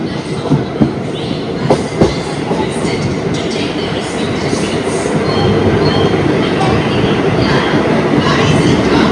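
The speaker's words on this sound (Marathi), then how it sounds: "या ठिकाणी वापी वलसाड मुंबई ट्रेन लागलेली आहे" A Vapi–Valsad–Mumbai passenger train rumbles close by at a station, a loud continuous rolling clatter that swells in the second half, with a few sharp clanks early on and faint voices beneath.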